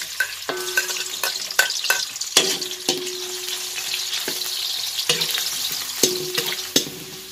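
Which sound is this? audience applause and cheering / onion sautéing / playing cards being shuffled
onion sautéing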